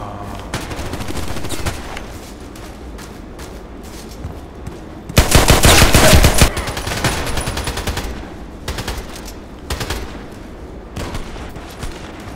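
Sustained AK-12 assault rifle fire in the online shooter Contract Wars, rapid automatic bursts rattling over game ambience, with a louder, denser volley midway and scattered shorter bursts afterward.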